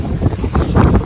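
Strong wind from a Kalbaishakhi storm buffeting the microphone, a loud, close rumbling roar with gusty swells over about a second.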